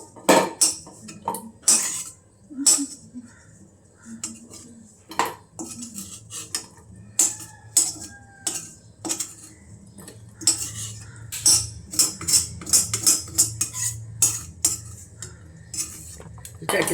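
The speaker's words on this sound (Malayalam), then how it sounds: "ചിക്കൻ വറുത്ത് നമുക്ക് കോരിയെടുക്കാം കേട്ടോ." Metal utensils clink and scrape against a pan while fried chicken is scooped out in a home kitchen, a busy run of sharp close clatters and knocks with no talking.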